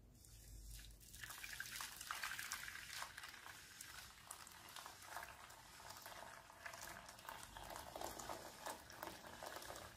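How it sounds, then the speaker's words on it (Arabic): Boiling water poured from a cup onto coffee, a steady close splashing and bubbling pour lasting the whole stretch, with no voices. "طيب دلوقتي بقى كده هنزل عليهم بكوبايه الميه مغليه"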